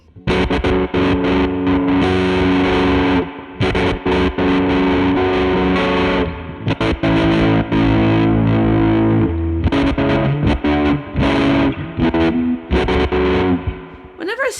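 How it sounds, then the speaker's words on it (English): A distorted electric guitar is chopped by a random-waveform tremolo from a Dreadbox Treminator pedal, so its volume drops out in uneven, glitchy gaps throughout. "a random tremolo on something, I kind of feel like you're trying to get something kind of glitchy"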